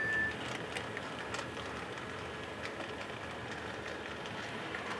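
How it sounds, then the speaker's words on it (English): An HO scale model train runs along the track of an automated layout with block detection, a faint steady rumble with light clicking, continuous and close without any talk. "I'm going to move that train around a little quicker"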